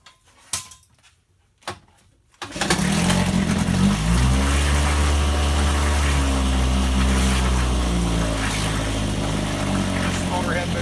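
A 1961 Evinrude 3 hp outboard motor cold-starts on the first pull after a few quiet handling clicks, then settles into a loud, steady, buzzing idle that runs on without a break.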